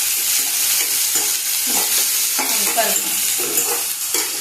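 Green chillies frying and being stirred in hot oil for a potato kara kuzhambu, a steady close sizzle with scraping stir strokes throughout and a brief spoken word.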